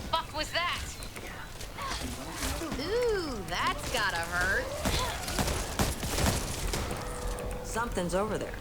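Gunfire in the video game Back 4 Blood crackles in quick bursts amid chaotic effects, with excited voices talking loudly over the shots throughout.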